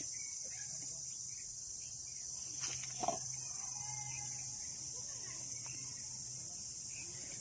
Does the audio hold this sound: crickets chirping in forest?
yes